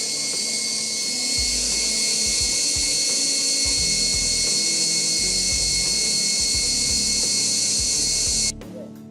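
Electric mixer at full speed beating sponge cake batter with egg yolks, a loud, steady high whine with low knocking of the beaters against the bowl, running close and alone until it cuts off near the end.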